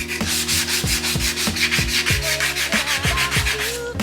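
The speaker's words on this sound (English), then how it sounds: "I gotta sand this down, re-etch this primer" Flaking paint and primer are sanded by hand in a car engine bay, with a close, loud train of quick rhythmic back-and-forth rasping strokes.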